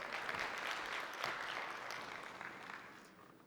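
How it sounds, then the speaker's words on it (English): An audience at a safety culture talk claps in a continuous dense patter that fades gradually toward the end. "Everyone, round of applause for Stuart."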